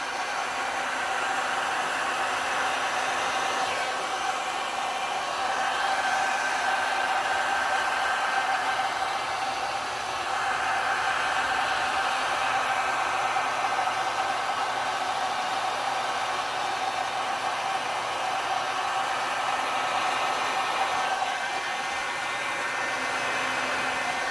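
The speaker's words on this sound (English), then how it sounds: "I'm going to come back in with the heat gun one more time." A heat gun blowing over resin on a turquoise tumbler, a continuous close whooshing hiss of hot air that holds steady throughout with a brief dip midway.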